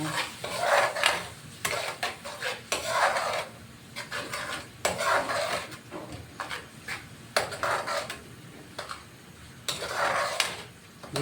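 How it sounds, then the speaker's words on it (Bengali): Ground garlic, chilli and cloves being stirred in a cooking pan, a spoon scraping and sloshing through the paste in repeated strokes with a soft sizzle underneath, close and moderately loud. "তারপরে দিব আটা বাটা, রসুন, মরিচ, লং, তারপরে দিয়ে দিই একটু মিক্স করে নেব"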